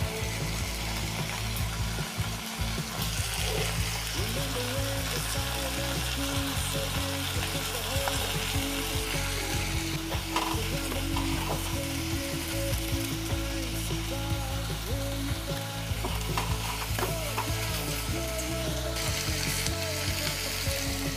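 Mixed vegetables with drained raisins fry in a pan for veg cashew rice, giving a dense, steady sizzle. Clinking and scraping from stirring run through it.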